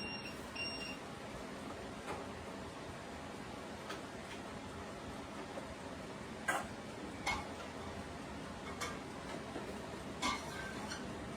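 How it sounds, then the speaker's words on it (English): A kitchen timer ticks steadily and faintly against a constant noisy background, with occasional sharper clicks standing out every second or so, no talking. "All right, so that's the timer."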